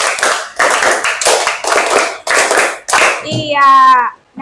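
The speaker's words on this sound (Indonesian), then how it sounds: "Tepuk 1, tepuk 2, tepuk 3, tepuk 4," A class of children claps in bursts during a counted clapping ice-breaker game in a school classroom, with quick groups of hand claps separated by short pauses and a voice near the end.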